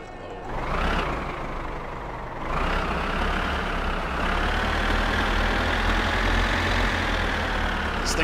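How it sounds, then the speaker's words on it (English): A heavy tractor engine in the video game My Summer Car rumbles loudly and continuously, rising in pitch as it revs twice before settling into a steady drone. "That's how those tractors operate. They're noisy."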